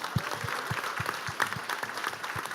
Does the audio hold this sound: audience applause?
yes